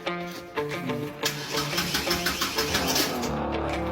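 A car engine cranks with rhythmic starter pulses, catches and settles into a running idle; voices talk around it.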